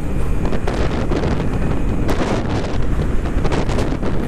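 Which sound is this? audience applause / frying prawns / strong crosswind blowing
strong crosswind blowing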